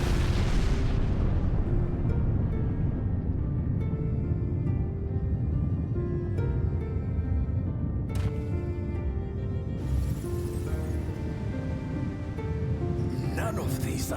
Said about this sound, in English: An earthquake?